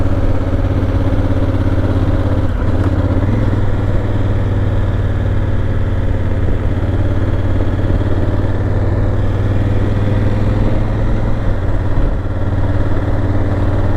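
A Honda Africa Twin DCT motorcycle on a road, its engine giving a loud, steady low drone with a strong humming tone that holds for the whole stretch.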